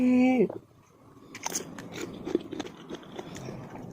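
Someone bites into crunchy fried cheese chicken feet: a short voiced sound opens, then after a brief hush comes a loud close crunch followed by a flurry of crackly chewing crunches.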